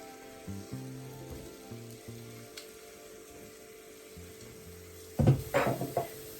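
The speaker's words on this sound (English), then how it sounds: "So we're sauteing this for 1 minute" Crushed garlic and pimento seed sautéing in a pot for a barbecued oxtail make a faint, soft sizzle, with a low hum running underneath. A burst of louder clattering and stirring knocks comes near the end.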